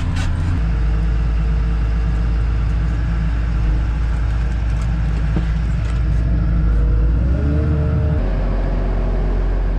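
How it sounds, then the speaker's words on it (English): A wheel loader's diesel engine runs loudly and steadily while handling round bales on a farm, a continuous close rumble that shifts in pitch partway through as the machine works. "we're gonna try and shake those round bales out with the wheel loader now"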